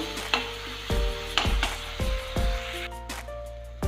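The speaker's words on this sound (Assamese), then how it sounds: "পানীখিনি শুকোৱালৈকে ধুনীয়াকৈ ভাজি ল'ম।" Spice masala frying in a pan as its added water cooks off, with steady close sizzling and a few sharp stirring scrapes spaced roughly every half second; no one speaks.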